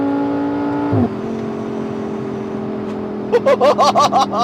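An Audi R8 V10 Spyder with a dual-clutch gearbox holds a steady engine hum, then blips sharply through a quick series of six rev bursts as it downshifts from seventh to third gear.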